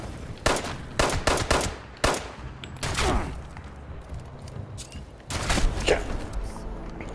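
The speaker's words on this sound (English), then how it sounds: "now he's shooting at me" An enemy fires at the player in Fallout 76, with several sharp bursts of gunfire followed by single shots and a longer volley, loud and close against game ambience.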